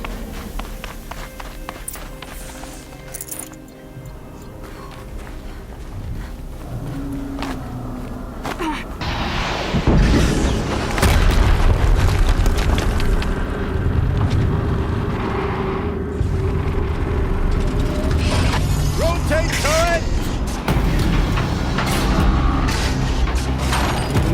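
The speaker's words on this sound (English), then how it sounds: "Another explosion." Explosions in the video game Horizon Zero Dawn, a loud broadband boom erupting around ten seconds into a busy game scene and followed by sustained rumbling debris and mechanical clatter.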